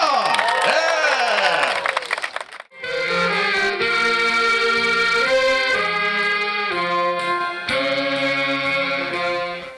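A crowd at an outdoor Voters' Day festival concert in Daegu claps and cheers loudly for about two and a half seconds before live stage music takes over.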